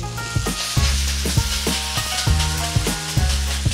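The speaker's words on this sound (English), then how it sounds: "Give it a good sear with the base of your spoon." Loud, crackling sizzle of beef searing in a hot pan, with rhythmic scraping knocks as it is pressed with the base of a spoon and stirred.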